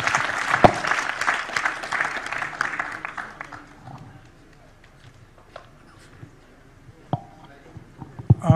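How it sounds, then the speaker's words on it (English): Audience applause for a panel of speakers at a climate-change session of a public dialogue forum, loud and dense at first, then thinning into scattered claps and faint murmurs that trail off over several seconds. "give a big clap to all the panelists who have been contributing to this process"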